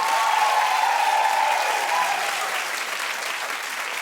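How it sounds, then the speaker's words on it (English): Audience applause at an Oscar nominations announcement for Best Director: a dense, sustained wash of clapping from a large crowd, steady and fairly loud throughout, with no talk. "they clapped after every single nomination"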